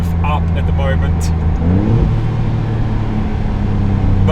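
Maserati engine heard from inside the cabin while driving with the roof up, a steady low drone and hum running throughout, partly under a person talking.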